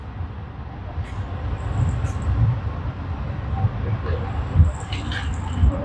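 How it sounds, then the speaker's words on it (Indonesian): A train rumbles through Klaten station during an Argo Lawu journey from Solo to Jakarta, a low continuous rolling roar with occasional high squeals and clanks, fairly close and loud throughout. "Ini kereta apa ya? Kayak Pramex, LRT."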